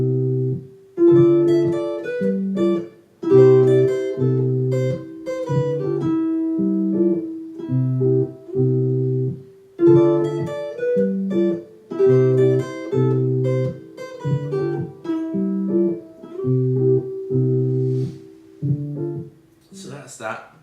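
Jazz chords on guitar looping in a repeating three-chord cycle, steady rhythmic strums with sustained harmonic tones, moderately loud and close, no talking over them.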